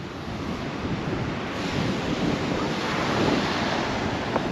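Rough sea waves at Anjuna beach in Goa, a loud continuous wash of surf mixed with wind noise on the microphone, swelling slightly toward the end.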